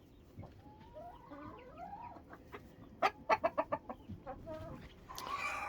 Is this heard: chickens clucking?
yes